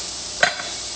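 Shrimp searing in a preheated pan without a nonstick coating give a steady, close hiss of sizzling, broken by a short sharp crackle partway through.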